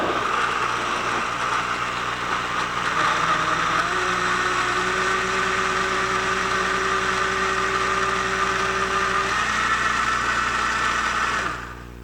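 Vita-Mix TNC blender with a powerful motor grinding strawberries, seeds and all: a loud, steady motor roar running unbroken for about eleven seconds, then cutting off at the end.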